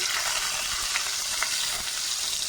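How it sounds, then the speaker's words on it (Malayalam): Mustard seeds, ginger and garlic sautéing in hot oil in a pan for masala dosa filling, a steady close sizzle with faint spatters and light stirring, no voices. "ഞാൻ വഴറ്റാൻ പോകുന്നു"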